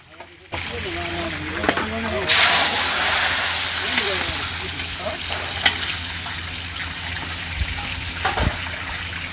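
Fish frying in a pan during village lunch preparations, a steady soft sizzle and hiss running throughout, with people chatting nearby and occasional clinks of utensils.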